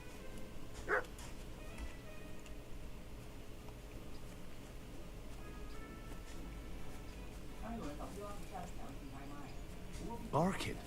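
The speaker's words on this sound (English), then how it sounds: "Barking. He's coming from over there." Dog barking in the medieval video game Kingdom Come: Deliverance II, a few short barks at moderate distance over a steady ambient game background, with speech heard around them.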